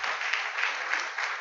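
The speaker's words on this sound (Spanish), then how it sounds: "Denle un aplauso al Rey." A church congregation applauds, steady dense clapping filling a short moment at even loudness, close and full.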